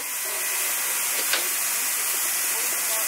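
Steam locomotive 23 058, a class 23 engine built for passenger and light express trains, gives off a steady broad hiss of steam with a brief sharper burst midway, close and continuous.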